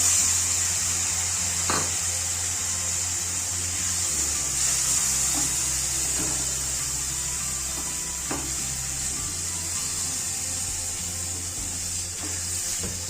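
Steady, close sizzling and hissing of bread and semolina frying in hot oil, continuous throughout with a few faint clinks and no talking.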